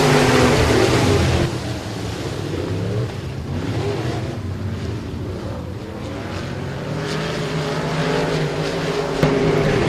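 A pack of Pro Mod race cars roars at a Boothill Speedway dirt oval, engines droning loudly and continuously as they power around the track, the pitch rising and falling slightly.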